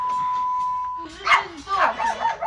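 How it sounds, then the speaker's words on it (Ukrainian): A dog whimpers and yips inside a farm outbuilding, a few short high cries close by after a steady tone at the start. "Поряд у господарській будівлі чути скавчання"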